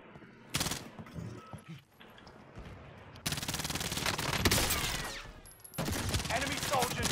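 Bursts of video game gunfire crack out as an enemy soldier attacks from behind, starting with a short volley and then long, dense rapid-fire runs that fill most of the clip, loud and close.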